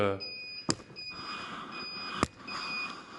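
Two sharp electronic beeps about a second and a half apart from a Yano steam generator showing error E15, loud and close, over a steady high-pitched whine and faint background hum.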